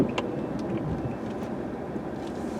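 City snow plow trucks drive along a snowy street, a steady low engine rumble with a faint scrape, moderately distant and continuous.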